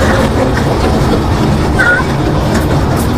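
A train running along tracks beside a wide wetland of open water in Brahmanbaria, heard as a steady, loud rumble with faint rhythmic rail clatter throughout.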